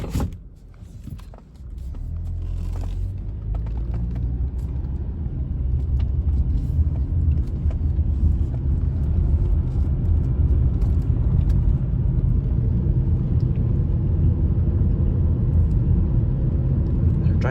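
Inside a 2011 Mazda CX-7 with the 2.5L engine and over 350,000 miles, a steady low road and engine rumble builds after a few brief clicks as it pulls away and cruises.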